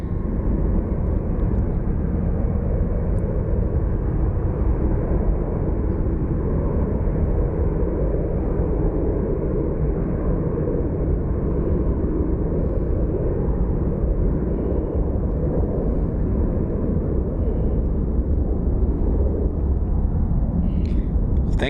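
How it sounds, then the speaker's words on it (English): An airliner bound for Chicago Midway roars at Phoenix Sky Harbor International Airport, a loud steady engine rumble that fills the whole span without letting up. "So up next is this plane is headed to Chicago Midway."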